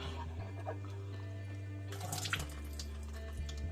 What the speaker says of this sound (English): I'm just pouring out the excess water.